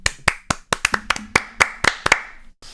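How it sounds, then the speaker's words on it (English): Crisp, close hand claps sound in a quick run of about a dozen sharp strikes, slightly uneven in rhythm, before stopping, with no talk over them. "That man deserves a round of applause."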